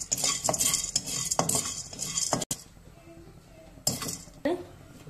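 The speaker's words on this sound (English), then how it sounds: "Now I am frying Bengal gram." A utensil scrapes and clinks against a pan of frying Bengal gram in repeated bursts of stirring, with a quieter stretch in the middle, close by.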